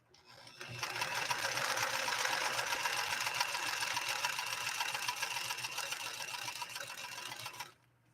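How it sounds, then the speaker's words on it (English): A White Model 742 sewing machine stitches a blind hem in one steady, continuous whirring run of about seven seconds, close and fairly loud, starting up and then stopping abruptly. "Here we go with a blind hem now"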